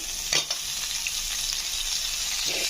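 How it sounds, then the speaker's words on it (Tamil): Onions sauté with salt in a pan for a Tamil-style egg gravy, a steady loud sizzle of frying broken by a few brief stirring scrapes, close and continuous with no voices. "இது வதங்கிறதுக்கு கொஞ்சம் கூட உப்பு ஆட் பண்ணி வதக்கிக்கலாம்"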